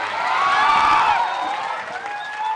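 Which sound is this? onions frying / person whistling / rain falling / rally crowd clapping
rally crowd clapping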